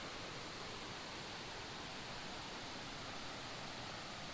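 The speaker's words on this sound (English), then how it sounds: "Here's from the top of Horsepound Falls." Horsepound Falls waterfall in Savage Gulf, Tennessee, heard from the top of the falls as a steady, even rushing roar of falling water, faint and unbroken, with no voices.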